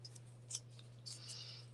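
Scissors fussy cutting, heard as a few quiet, irregular snips over a low steady hum.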